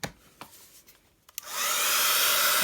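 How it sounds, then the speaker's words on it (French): A heat gun dries freshly stencilled paint, starting after a few light clicks and handling knocks and then blowing as a steady, loud, close roar that holds to the end, with no talking. "Je vais lui donner un petit coup de sèche-cheveux,"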